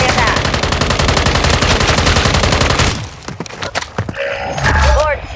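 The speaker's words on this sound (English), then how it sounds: "lay down some cover fire" Gunfire in Call of Duty: Modern Warfare III: about three seconds of loud, rapid sustained automatic fire, then scattered single shots and thuds beneath faint radio-style chatter.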